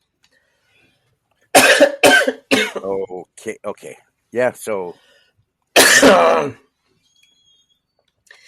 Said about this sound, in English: when I break into coughing fits